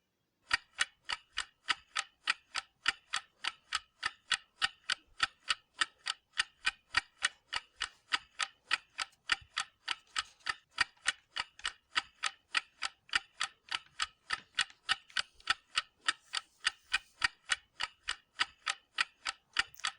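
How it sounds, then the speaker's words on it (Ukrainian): A mechanical clock ticks steadily and evenly, a crisp close-up tick repeated about twice per second for the whole stretch, alone in an otherwise quiet room. "Так, це цокає годинник."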